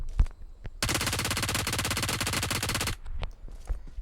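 Long sustained burst of automatic gunfire in the mobile battle-royale game PUBG Mobile, preceded and followed by scattered single shots and clicks, loud and close with no speech.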